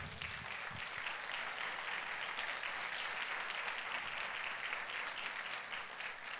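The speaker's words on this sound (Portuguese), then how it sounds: "Então dá um aplauso a Ele." Congregation applause at a pastors' church gathering, dense, continuous clapping that stays evenly loud throughout with a noisy, hall-like wash.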